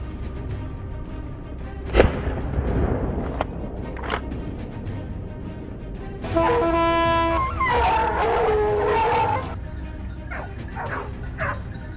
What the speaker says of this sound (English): At the edge of the field, the barking of dogs echoed,